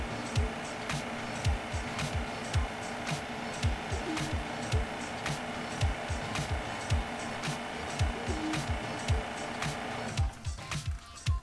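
Refrigerant recovery machine running its final purge cycle, pulling the system into a vacuum: a steady mechanical hum with a rapid, regular ticking pulse throughout, alone and close, shifting in tone near the end as it shuts down.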